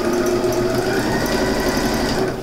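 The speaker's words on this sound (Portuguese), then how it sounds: "Máquina de costura." Sewing machine stitching fabric for a scrap-patchwork coin purse, a loud, close, steady mechanical whir with a rapid needle chatter running unbroken throughout, with no voices.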